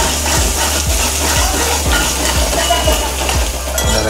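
Onions frying for kanda poha, a steady loud sizzle with a regular rhythm of spatula scrapes against the pan, about two per second, with no talk.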